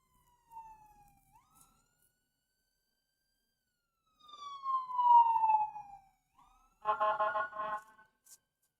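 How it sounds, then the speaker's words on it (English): Police sirens pass at a distance, faint and intermittent, with wailing tones sweeping up and down in separate bursts and a short honking horn-like blast near the end, against near silence. "Oh, sirens."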